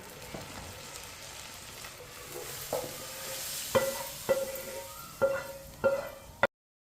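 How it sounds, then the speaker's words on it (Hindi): Hot oil tempering is poured into masoor dal, crackling and sizzling with several sharp bursts, steady frying hiss between, no talking. "अब तड़के को दाल में डालेंगे"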